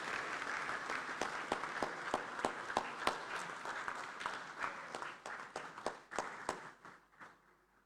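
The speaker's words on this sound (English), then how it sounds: "Please, a round of applause for her." Applause fills a parliamentary hall for the President of the Senate of the Kingdom of Eswatini, a dense, continuous crowd clapping with sharp individual claps standing out, steady for several seconds before thinning and fading away.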